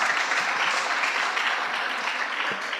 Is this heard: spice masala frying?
no